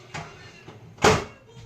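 A couple of soft clunks, then a sharper thud of a microwave door shutting nearby, quiet surroundings.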